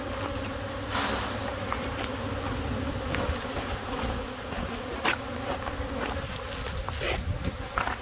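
Honey bees swarming loudly while frames are shaken to make package bees, a dense continuous buzz with scattered clicks and knocks of hive equipment throughout.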